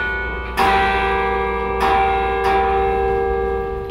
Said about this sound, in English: make sure we could get him up to the top to play the bells